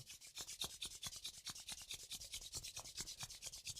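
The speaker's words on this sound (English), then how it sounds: "Slowly rub your hands together, make them nice and warm" Hands rubbing together slowly to warm them during a pranayama breathing practice; a soft, close, rhythmic swishing of steady strokes runs throughout, quiet, with no voices.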